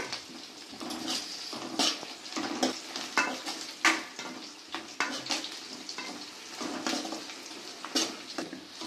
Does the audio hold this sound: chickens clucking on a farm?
no